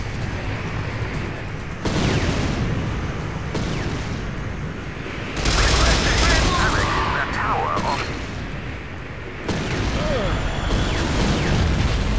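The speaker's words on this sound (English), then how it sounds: "Airstrike en route." Airstrike and gunfire in Command & Conquer: Renegade, with continuous rumbling blasts and bursts of shooting that surge into a louder barrage midway, all mixed under game voices.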